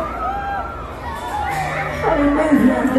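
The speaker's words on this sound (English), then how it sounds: "you wanna hear the scream?" Riders on a Dominator fairground ride at a town fair scream and shout together in a rising crowd din, growing louder toward the end.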